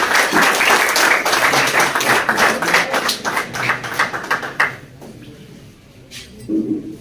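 Applause rises for an award recipient at a Kashmir pigeon sports club car cup ceremony, dense clapping near the start that thins into scattered claps and fades to near quiet before a few final hand claps.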